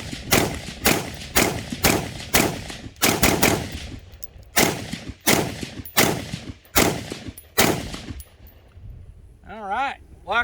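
An IWI Tavor X95 bullpup rifle fires through a full magazine outdoors at a range: a rapid string of loud, sharp shots in irregular bursts, ending with brief mechanical sounds.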